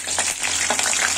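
Paneer momos fry in hot oil in a kadhai, a steady close bright sizzle with bursts of crackling bubbles and no talk.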